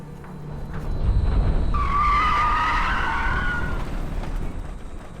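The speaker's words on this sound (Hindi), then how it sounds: "गाड़ी वापस घुमा।" A car swings around in a sharp turn, its tyres skidding with a loud, sustained screech that rises over the engine roar, close and intense for several seconds before easing off.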